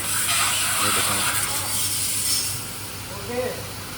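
A motorbike is washed with a steady, close, loud water spray that hisses continuously, while someone talks over it.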